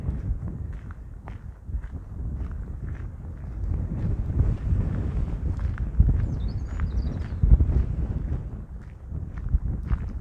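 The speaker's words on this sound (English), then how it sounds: "It is a bit windy today." Wind gusts buffet the microphone on an open hill walk up Dundeugh Hill, a low rumbling roar rising and falling in waves, mixed with the soft crunch of footsteps on the path.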